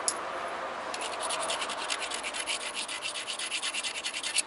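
Green obsidian being ground at the edge during flintknapping, heard as close, quiet scratching strokes that become a quick rhythmic back-and-forth rasp.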